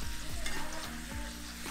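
Pumpkin swordfish sizzles loudly in a cast iron pan just after being flipped, a dense, steady frying hiss with faint scrapes now and then, close and alone throughout.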